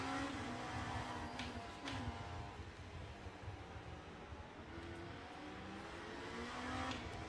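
BMW race cars battle on track in the Le Mans Ultimate racing game, their engines droning and rising and falling in pitch as they accelerate and shift, fairly faint and continuous with no talk.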